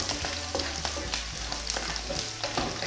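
Onions and chili bits sizzle steadily in a hot pan, with repeated scrapes and stirring clatters of a utensil across the surface, close and fairly loud.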